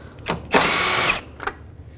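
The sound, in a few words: power drill with 10mm socket removing bumper bolts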